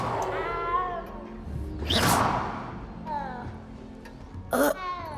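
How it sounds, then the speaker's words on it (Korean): A cat in the Hogwarts Legacy video game gives several plaintive meows, short and rising-falling, mixed with whooshing swishes from the game and faint background voices. "진짜 고양이 소리가 나네"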